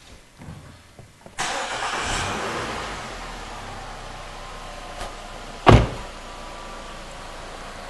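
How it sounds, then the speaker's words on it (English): A car engine cranks and catches, then settles into a steady, fairly close idle. It follows faint handling noises, and a sharp clunk is heard partway through. "So I'm going to start the car right now."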